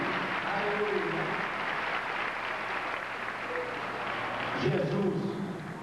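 A church congregation applauds steadily, a broad wash of clapping that holds at moderate level throughout, with voices and faint musical tones rising over it toward the end.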